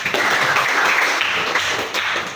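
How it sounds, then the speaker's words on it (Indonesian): Classroom applause during a teaching session, a burst of hand clapping from a group lasting a couple of seconds, close and fairly loud with no talk. "Tepuk tangan tuh dan tuh."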